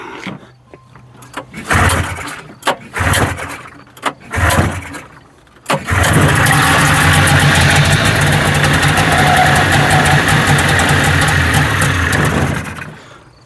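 An old 1981 John Deere snowmobile engine sputters a few times, then catches and runs steadily at a loud, raspy idle for several seconds before cutting off.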